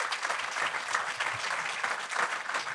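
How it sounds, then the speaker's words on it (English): A live audience gives a steady round of applause for the hosts, the folks at Virtus, at a Compound and Friends event in New York City; dense clapping runs evenly from start to finish with no voices on top. "I would really love a round of applause for our hosts, the folks at Virtus."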